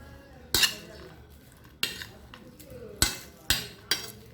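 Spoon stirring sliced ivy gourd, onion and coconut together in a bowl, giving about five sharp separate clinks and scrapes against the dish in an otherwise quiet kitchen.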